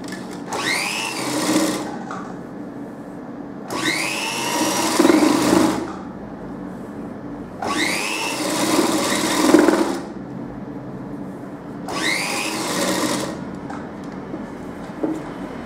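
A sewing machine stitches black piping onto black fabric in four loud, close bursts of fast whirring stitches, separated by brief quiet pauses, with no talking.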